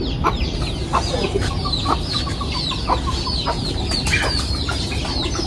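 A hen with her chicks clucking on a farm in the morning, repeated close, loud clucks with high thin chick peeps throughout, no talking.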